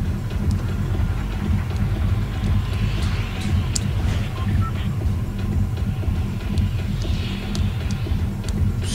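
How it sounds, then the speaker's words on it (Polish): A rumbling train in the video game Fortnite passes with a steady low roar and faint rattling on top, continuous throughout. "Myślałem, że jakiś pociąg szedł"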